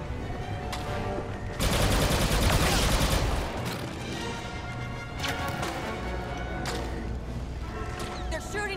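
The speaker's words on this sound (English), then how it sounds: "They're shooting at me!" Blaster fire from stormtroopers in Star Wars Battlefront II's Inferno campaign, with rapid bursts of shots over game music and battle noise, loudest in a dense volley early on, then scattered sharp shots.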